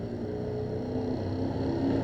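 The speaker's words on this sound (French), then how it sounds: "Il y a des ratés dans ton moteur, Momo, hein." A car engine drones steadily at moderate level, misfiring so its rumble is uneven with slight stumbling irregularities, no voices present.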